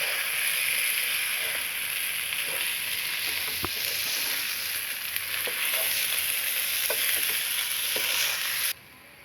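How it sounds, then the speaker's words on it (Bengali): Pulao rice and vegetables fry in a pan with a steady, bright sizzle and soft stirring scrapes, continuous and close with no talk. "চালগুলো এখন একটু সবজির সাথে ভেজে নিচ্ছি"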